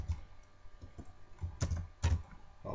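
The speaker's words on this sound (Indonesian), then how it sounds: "Misalkan saya ketikkan di sini." Keys on a computer keyboard are tapped in a few soft, scattered clicks, quiet and close, with two slightly firmer presses near the end.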